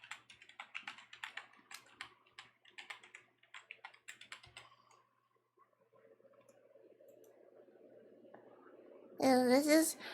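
Rapid keystrokes clatter on a computer keyboard in quick uneven bursts for about five seconds, then stop, leaving low room hum before a brief loud noise at the end.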